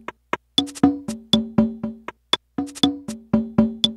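Latin rhythm pattern number 20 from a Casio SA-76 keyboard with reverb off: dry, crisp percussion hits in a repeating syncopated groove, loud and close with silent gaps between strokes.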